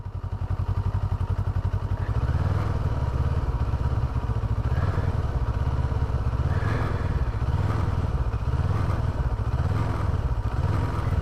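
A 2015 CFMOTO 650NK motorcycle's engine revs under a sensitive cable throttle, with loud, steady low engine pulses and repeated short throttle blips rising and falling, nearby and without talk.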